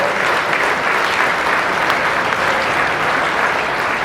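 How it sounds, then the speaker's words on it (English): An audience at a charity event applauds a soldier, a staff sergeant, with loud, continuous clapping that holds evenly throughout, with no voices over it. "let's give a round of applause, Jason"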